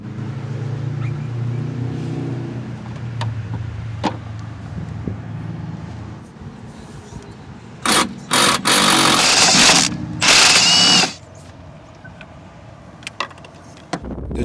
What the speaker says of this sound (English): Keep the shock from spinning with your hand while you loosen the nut with the 15mm deep socket.